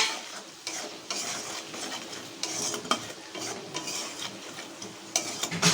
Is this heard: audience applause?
no